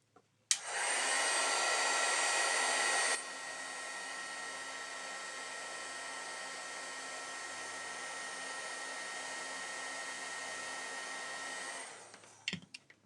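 A heat embossing tool blows steadily for about eleven seconds, melting embossing powder on a handmade birthday card. It starts with a louder burst, drops to a constant whir, then stops with a few faint clicks. No one speaks.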